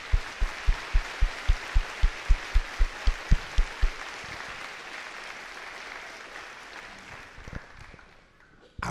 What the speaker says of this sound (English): can we please give a round of applause to everybody who showed up for us today?